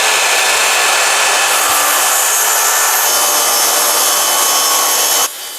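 A homemade DIY track saw rips through a wooden board in one continuous, loud, high-pitched whining cut lasting about five seconds, then the blade stops abruptly.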